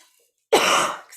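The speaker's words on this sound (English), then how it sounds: "I have this cough I've been having over the last couple of weeks" A single sharp cough from a person with a lingering cough, close and loud, bursting out after a brief silence and trailing off within half a second.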